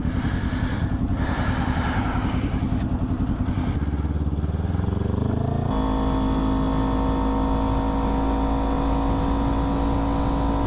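A Kawasaki Ninja 400 sport motorcycle ridden on a highway, its engine droning steadily and loudly throughout with a brief shift in pitch partway through, close and continuous under rushing wind.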